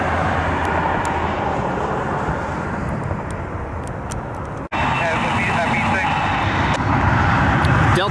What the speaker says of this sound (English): It's a bumpy approach for this Embraer.